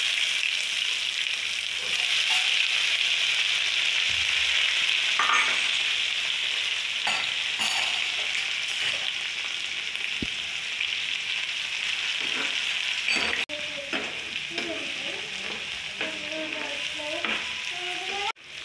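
Shallots, curry leaves, tomato, ginger and garlic are sautéed in coconut oil in a pan, giving a loud, steady sizzle and frying hiss throughout, with occasional scraping and stirring clatter of a spoon, and no talk.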